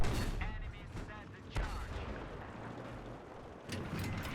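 Tank cannon fire in the video game Battlefield 3, heavy booming blasts with a sharp report near the start and another near the end, over rumbling battle noise and engine drone.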